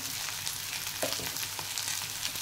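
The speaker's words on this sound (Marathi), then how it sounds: "बटाटे सुद्धा छान असे मिनिटभर परतून घ्या" Chopped potatoes for an aloo palak sabzi sauté in a pan, with a soft, even sizzle and a faint stirring scrape partway through, and no talking.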